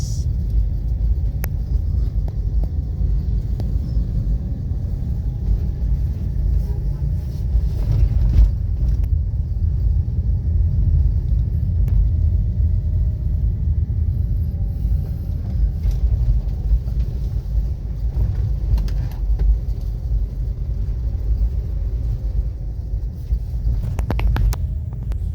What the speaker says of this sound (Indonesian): mobil beriring-iringan ini jalan turun tajam, harus rem